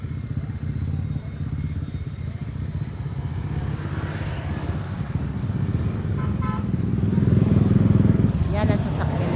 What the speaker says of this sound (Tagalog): Kanilang motor yun eh.